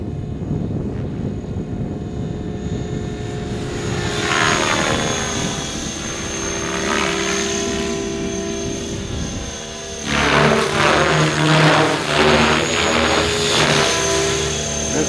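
A T-Rex 600 radio-controlled helicopter flies close by with a high, buzzing rotor whine that rises and falls in pitch as it manoeuvres, then surges louder near the end.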